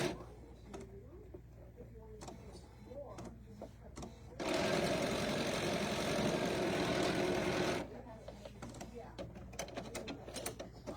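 A sewing machine stitches a zinnia table runner in a steady, fast mechanical whir lasting about three seconds, framed by quieter moments of handling and light background talk.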